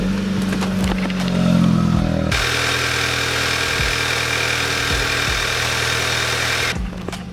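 An Audi A3 with a TSI engine, freshly fitted with a resealed valve cover gasket, cranks briefly then catches and settles into a loud, steady idle close by, with no talking.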